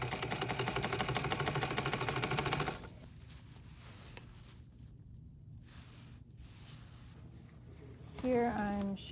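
A sewing machine stitches a suit jacket sleeve lining shut, whirring in a fast, steady mechanical rhythm for a few seconds up close, then stopping, leaving quiet room tone with faint handling sounds.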